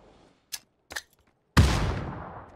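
Gunfire in PUBG: two short distant pops followed by one loud, close blast with a long rumbling tail, no voices.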